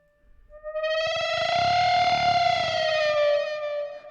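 Distorted electric guitar note bent with a whammy bar, effects adding chorus and echo; a single sustained tone swells in, slides slowly upward in pitch with wavering, beating strings, then fades, played alone without talk.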